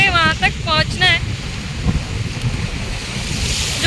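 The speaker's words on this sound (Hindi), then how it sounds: "इतनी जोर से वो लहरें टकराती हैं दीवार से, बहुत जोर से।" Ocean waves crashing against a sea wall in Mumbai, a rough surf roar with wind buffeting the microphone, after a brief stretch of voices at the start.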